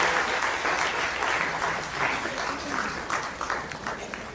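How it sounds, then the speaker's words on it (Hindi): Audience applause at a Buddhist meditation centre gathering: dense, steady clapping from a crowd, fairly even in loudness and sustained throughout. "फिर से एक बार तालियां बजाएंगे।"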